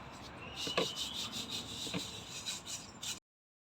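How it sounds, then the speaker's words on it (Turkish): Pine pollen being sifted through a second, finer sieve for a home pollen remedy: a steady close rubbing and scraping hiss with a few sharper taps, continuous for about three seconds before stopping. "Bakın şimdi ikinci daha ince olan eleğimizden eleyeceğiz."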